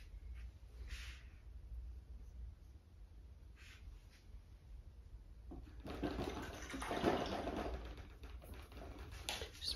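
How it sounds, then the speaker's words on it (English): A paintbrush is rinsed in water between strokes of an acrylic painting, a soft swishing and splashing rising in the latter half after a quiet, faintly hissing stretch. "rinsing my brush out."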